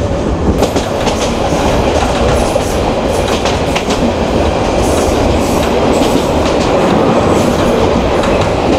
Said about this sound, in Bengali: আমাদের ট্রেন সৈকত এক্সপ্রেস দুর্দান্ত গতিতে ছুটে চলছে